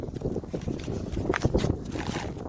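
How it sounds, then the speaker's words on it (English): Gusty wind buffets the microphone in uneven rumbling bursts, close and blustery, with faint outdoor sounds underneath. "Sorry, it's so windy."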